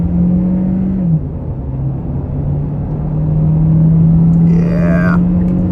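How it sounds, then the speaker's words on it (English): 2023 Hyundai Tucson Hybrid Blue accelerating onto a highway from inside the cabin, a steady low engine drone that shifts pitch once and gradually builds, with a brief voice toward the end. "We'll try out an acceleration onto this highway as soon as we get the chance"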